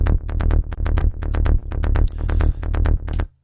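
A sub bass layer from a track plays a galloping pattern of punchy, evenly spaced low hits, loud and dry with nothing else around it, stopping abruptly at the end.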